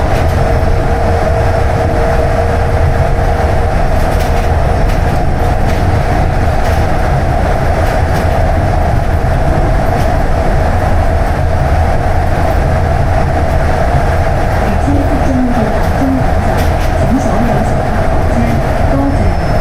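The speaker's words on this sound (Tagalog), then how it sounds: "The train will soon arrive at the terminus." A Hong Kong train runs steadily on its rails, a continuous loud rumble with a sustained tonal hum and some faint clatter, no talking.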